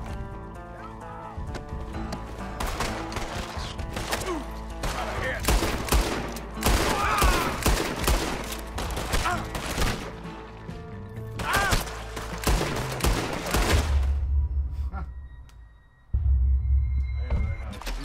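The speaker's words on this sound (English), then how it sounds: "It seems really difficult to shoot in this game." Rapid bursts of gunfire from the Red Dead Redemption 2 video game, dense volleys overlapping a low droning hum and music, loud and sustained across most of the stretch before a brief lull and a heavy low rumble.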